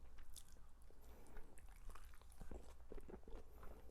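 Dumplings being bitten and chewed in a close-miked mukbang, with a steady run of soft, wet chewing and squishing sounds over low background rumble.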